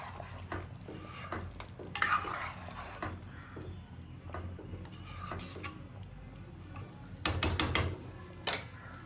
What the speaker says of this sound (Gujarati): અને હવે આપણે વ્યવસ્થિત એને મિક્સ કરી લઈએ।